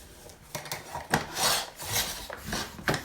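A paper board edge is trimmed on a cutting board for a mini album, with several short rasping and rubbing strokes close by, uneven in rhythm and moderately loud, without talk.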